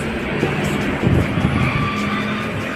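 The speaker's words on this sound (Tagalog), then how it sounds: "testing naman natin yung heat gun para makita niya yung ano niya, lakas" An INGCO 2000W HG20008 heat gun running, giving a steady close fan-driven roar and blowing rush with a slight surge partway through, no talking.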